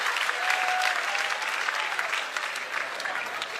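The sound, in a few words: audience applause at comedy show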